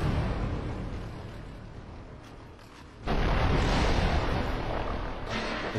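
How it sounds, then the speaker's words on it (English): In Dark Souls 2 an enemy smashes through a wall, a dense rumbling crash that builds and then surges louder partway through before easing slightly, heavy and close with no voices. "enemies will actually break through walls and try to get back at you"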